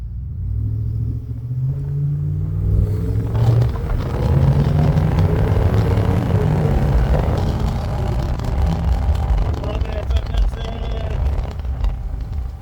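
A truck engine rumbles steadily while driving, a deep low drone that swells as it accelerates, with faint talking mixed in.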